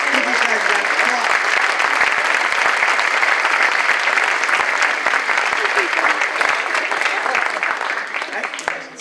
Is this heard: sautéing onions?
no